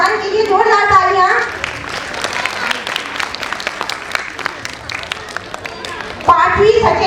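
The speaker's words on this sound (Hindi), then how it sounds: "ऋत्विका वीरेन चौहान के लिए जोरदार तालियां।" Audience applause at a school annual function, as young kindergarten pupils are honoured for top marks. Dense clapping fills most of the clip and fades off, with an announcer speaking briefly at the start and again at the end.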